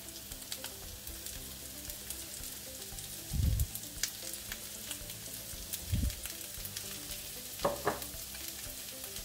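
Onion fries in a pan for a pasta dish with asparagus and mushrooms, a soft continuous sizzle with three low thumping stirs spaced a few seconds apart and a brief scrape, fairly quiet and with no talking.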